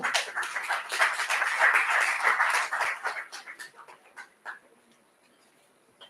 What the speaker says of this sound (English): Please, one more time, a round of applause for him.